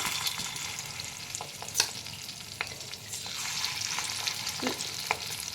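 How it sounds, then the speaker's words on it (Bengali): Fish roe pakoras frying in hot oil in a kadai over low-to-medium flame, a soft continuous sizzle with a few faint clicks and taps, fairly quiet and with no talking. "আমি কড়া বসিয়ে দিয়েছি, তেল গরম করে দিয়েছি। এবারে আমি একে একে পকোড়াগুলো ছাড়বো।"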